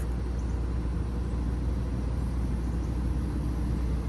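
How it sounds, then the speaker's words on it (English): A truck rumbles past as a steady low drone of engine and road noise, with no voices. "I think I hear another truck. It's a truck."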